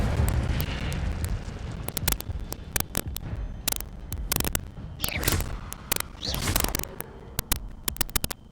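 Incendio fire spell cast in Hogwarts Legacy, a roaring blast of flame with crackling bursts and sharp pops over dense rumbling game noise, loud and continuous with repeated spikes.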